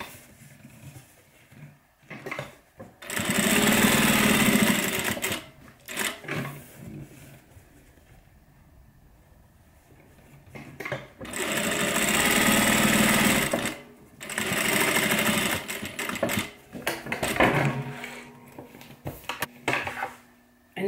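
A sewing machine stitches a messenger bag in several bursts of fast whirring, each run several seconds long, separated by pauses with handling clicks and fabric rustle.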